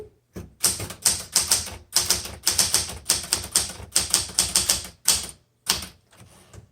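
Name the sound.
typing on 1978 Smith Corona Classic 12 manual typewriter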